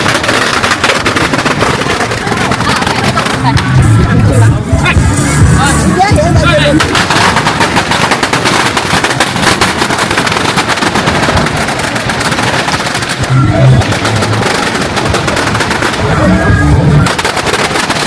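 Firecrackers at the Nianli festival in Zhanjiang, China, crackle in dense, continuous rapid bursts, loud and close, with occasional heavier bangs throughout.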